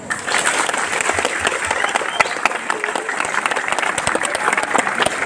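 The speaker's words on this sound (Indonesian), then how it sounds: "Tepuk tangan." Students and staff at an outdoor Monday flag ceremony at an Indonesian school burst into loud, continuous clapping for about five seconds, a dense crackle of many hands with a few voices mixed in.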